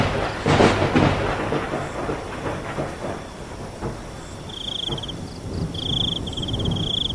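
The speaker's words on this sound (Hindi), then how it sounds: "बाहर तेज तेज बारिश और बिजली कड़क रही होती है।" Thunder rumbles through a downpour of heavy rain on a dark, stormy night, with loud broadband roaring bursts early on easing into a steady wash of rain, and a few faint high electronic beeps later.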